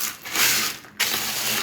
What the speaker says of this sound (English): That's the sound of perfectly crisp but not overbaked granola.